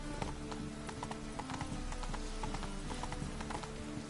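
Horse hooves clip-clop at a steady galloping rhythm in The Witcher 3 video game, close and continuous with a soft background bed and no talking.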